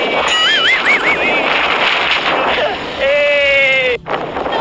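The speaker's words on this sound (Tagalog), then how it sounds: "Lakas ng hangin." Strong wind buffets the microphone in a steady, loud broadband roar outdoors, with bird-like chirps and whistles layered over it and a brief dropout near the end.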